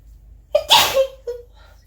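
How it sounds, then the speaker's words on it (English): A single close, loud sneeze bursts out with a sharp inhale and explosive release, followed by a brief vocal sound afterward. "Oh, I got sneeze."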